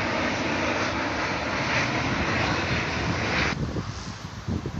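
An airplane descends to land at an airport close to a university campus in Trabzon, its engine roar loud and steady before cutting off abruptly, leaving quieter ambient noise.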